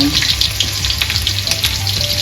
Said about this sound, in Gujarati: લીલા લસણ નો વઘાર જીરો છે